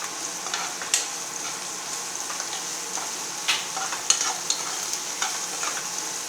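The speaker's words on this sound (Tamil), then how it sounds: "வதங்கட்டும் வதங்க." A spoon stirs and scrapes through sizzling onions sautéing in a hot pan for a Tamil-style egg finger fry, with a steady low crackle broken by irregular metallic clinks and scrapes.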